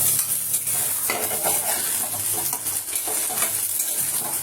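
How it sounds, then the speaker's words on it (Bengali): Fried potatoes for aloo dum are stirred into a sizzling spice masala in a pan, with a steady frying hiss, scraping and clinks of the spoon against the pan, close and alone. "ভাজা আলুটা এবার আমি দিয়ে দিচ্ছি।"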